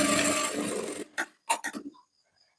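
A sewing machine stitches diagonally across fabric bias strips in a steady whirring run of about a second, followed by a few short, separate mechanical clicks and bumps, then quiet.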